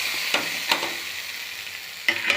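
Hot tempering poured into fenugreek kuzhambu for a lunch box, giving a steady close frying sizzle with a few sharp crackles and spatters scattered through it, no voices.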